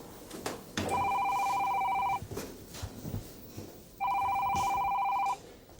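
An electronic phone ring chirps in two long bursts separated by a short pause, loud and close, with faint room noise between the rings.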